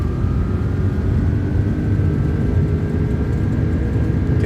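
Airbus A330-200 engines spooling at takeoff power in a flight simulator: a steady, loud broadband roar with a faint rising whine, continuous throughout with no talk.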